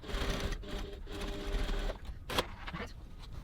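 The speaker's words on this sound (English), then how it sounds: "I'm going to use my normal seam allowance of 1 centimetre 3/8 of an inch just to baste this little bit in place." Sewing machine basting a seam on a crossbody bag at a 2.4 stitch length, a steady close mechanical whirring run in short bursts with brief pauses and small clicks between them.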